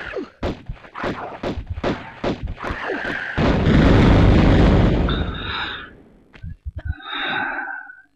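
In the Tomb Raider video game, a series of sharp clicks and thumps gives way to a loud, rumbling explosion that lasts about two seconds and then fades, followed by a few scattered crackles and a brief ringing tail.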